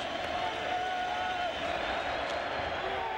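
A packed baseball stadium crowd at a 1998 Giants at Cubs game rises to its feet with two strikes on the batter, a broad, steady roar of cheering and scattered clapping from a distance, with a voice faintly over it.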